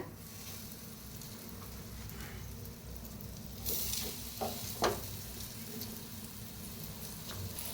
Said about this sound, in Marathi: आणि थोडंसं तेल ओतूया. आता हे दुसरं बी भाजून घेऊया.